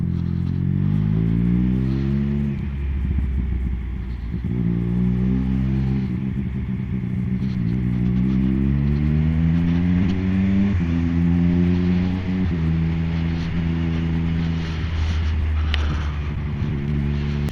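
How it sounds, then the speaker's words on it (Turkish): A Triumph Speed Triple 1200 RS with a Zard aftermarket exhaust drones loudly and continuously, its pitch climbing and dropping through gear changes, with rattling mechanical noise riding on top. "Egzozun sesi o kadar baskın ki."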